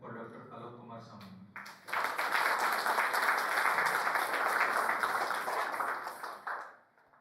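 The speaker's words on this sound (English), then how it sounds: "Let us again applaud him for Dr. Alok Kumar Samantha." An audience at an international conference breaks into loud, sustained applause after someone speaks briefly, and the clapping lasts several seconds before tapering off.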